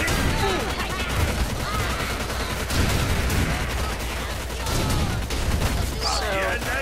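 Dense, continuous battle gunfire in the strategy video game Teeth and Tails, a loud, unbroken clatter of rapid shots and rumbling, with a voice speaking briefly over it.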